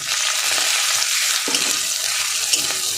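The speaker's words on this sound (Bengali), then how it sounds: "পেঁয়াজটা একটু কাঁচা গন্ধ যাওয়া পর্যন্ত ভাজবো।" Onion sizzling and frying in a pan with ginger, garlic and green chili paste, a steady close hiss with occasional stirring scrapes.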